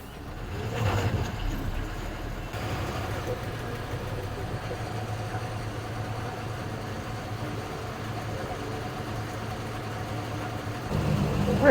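A bus engine drones steadily while the bus creeps through city traffic on the Hyderabad Outer Ring Road, a low continuous rumble with a brief rise near the start and a louder swell at the end.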